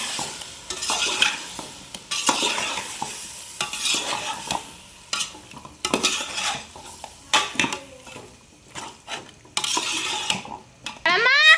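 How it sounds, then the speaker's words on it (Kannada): Chicken biryani ingredients being stirred in a pot, a metal spoon scraping and clinking against the sides in irregular bursts over a soft sizzle. No one speaks. "ಇದನ್ನೆಲ್ಲ ಹಾಕ್ಬಿಟ್ಟು ಚೆನ್ನಾಗಿ ಮಿಕ್ಸ್ ಕೊಡಬೇಕು."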